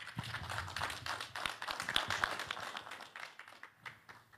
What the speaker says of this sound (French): Il mérite les applaudissements.